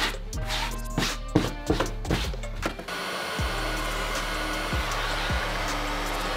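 A heat gun runs as a steady broadband whoosh while heating glued fabric on a car door panel; irregular knocks and handling clatter dot the first three seconds, then the blower continues alone with faint thumps.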